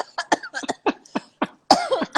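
A rapid series of short, sharp coughs, close and loud, ending in a longer hacking cough.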